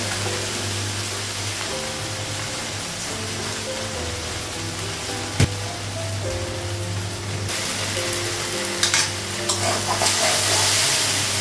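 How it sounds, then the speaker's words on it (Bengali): Okra frying in a pan, a close, steady sizzle with occasional stirring clatter, and a wash of rain-like hiss rising toward the end. "ঢেঁড়স ভাজাটা হয়ে গেছে"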